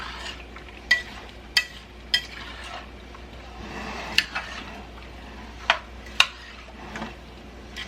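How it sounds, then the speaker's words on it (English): A spoon stirring a mixture in a cooking pot, sharp scattered knocks and scrapes against the pot every second or so over a low steady hum, nearby and fairly clear, with no talking. "Get this stirred in really good."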